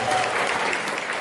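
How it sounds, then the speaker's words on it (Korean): Dense, steady applause from a lecture audience fills the whole moment, many hands clapping at once at close range without a break. "여기서 박수 한번 쳐주십시오."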